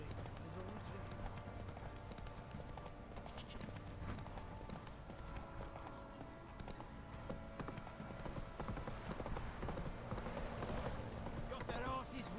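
Roach the horse trots through a video game world, with steady hoof clip-clops running the whole time beneath a voice talking over the gameplay.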